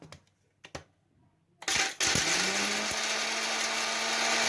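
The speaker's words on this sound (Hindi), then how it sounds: "अब ये काला नमक छोटा टुकड़े करके ग्राइंड कर लीजिए।" Small pieces of black salt are ground in an electric grinder. After a few light taps, the motor starts and settles into a loud, continuous whirring buzz.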